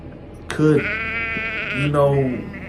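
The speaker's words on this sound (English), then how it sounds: "There's a sheep." A sheep bleats twice, close and loud, with wavering drawn-out cries that overlap a person's voice in the background.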